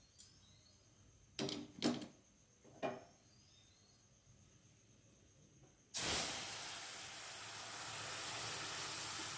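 Mung dal is poured into a hot tempering of fried spices, setting off a sudden loud hissing sizzle that keeps going steadily, after a few quieter utensil knocks and clatters; no voices.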